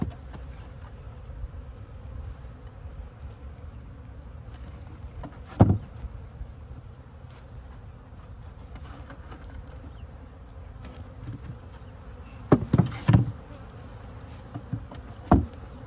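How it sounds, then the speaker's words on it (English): Honeybees hum around an open beehive during a hive check, a steady low drone throughout with a few sharp knocks and bumps. "look at the bees"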